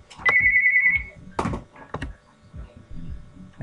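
Telephone ringing indoors beside a computer, a single electronic ring tone followed by scattered clicks and taps, with no speech.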